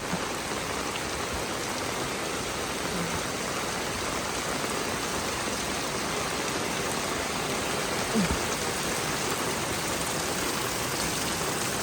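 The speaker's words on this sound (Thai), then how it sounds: "ฝนตก" Very heavy rain falling around a garden house in a Thai farm setting, with water nearly flooding: a close, continuous dense downpour roar that holds steady and unbroken throughout.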